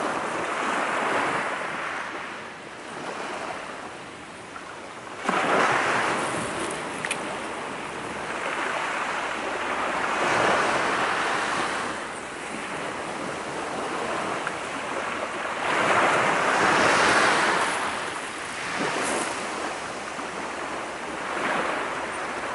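Ocean waves wash in and out at a beach, the surges swelling and receding every few seconds. Steady wind buffets the microphone throughout, and no one talks.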